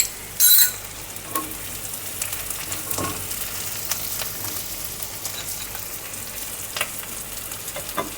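Pieces of bhetki fish fry in a pan with a steady, close oil sizzle that runs throughout, broken by a few light stirring knocks and one short sharp burst near the start.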